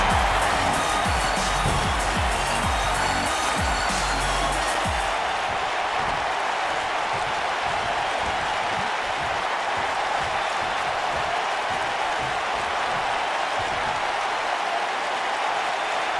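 Wrestling arena crowd noise from the video game WWE 2K19, a dense, loud, continuous roar of a large audience with applause and cheering throughout and no clear pauses.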